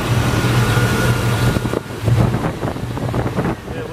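A 1988–95 GM full-size truck engine idles steadily after an ignition timing adjustment, its low rumble heavily buffeted by loud wind noise on the microphone outdoors.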